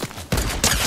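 A sniper rifle shot in Fortnite cracks out as a sharp, close burst that stands alone between other game noise, followed by a second loud impact moments later.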